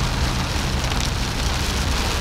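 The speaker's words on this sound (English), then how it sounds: "And it's pouring rain, and there's a lot of standing water." Heavy pouring rain drums on a moving bagged Mercedes W108 driving through standing water, a loud dense continuous roar with low road rumble underneath, no voices.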